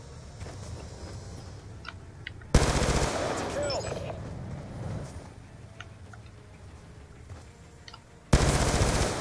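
Rapid machine gun fire from the Black Ops 2 video game, with loud sustained bursts at the start and end and quieter scattered shots and game effects in between.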